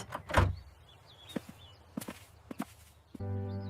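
A door being locked at home: a few soft, scattered clicks and knocks at close range, fairly quiet, followed by a steady low electrical hum. No one speaks.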